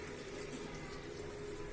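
Hot water is poured into a cooking vessel while making shavige bath, a steady, continuous splashing pour that runs without pause and without any talk.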